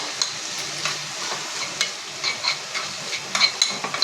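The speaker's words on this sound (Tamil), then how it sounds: "எடுத்துகிட்டு கொஞ்சம் ஃப்ரை பண்ணணும்" Paneer cubes frying in a pan with chilli powder, garam masala, pepper and salt, a soft sizzle with intermittent scraping stirs and light clinks of a spatula against the pan.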